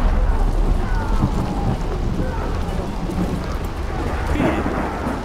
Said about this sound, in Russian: Дождь, да.